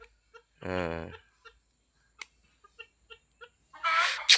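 A native country hen lets out a drawn-out cluck, followed by scattered soft pecks and taps, then a sharp squawk close by at the end.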